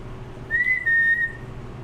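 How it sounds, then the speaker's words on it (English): A person whistles a short, high, sustained note indoors to wake a sleeping dog, two brief clear whistles in quick succession over quiet room tone. "I mean by whistling."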